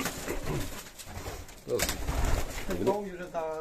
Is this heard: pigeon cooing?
yes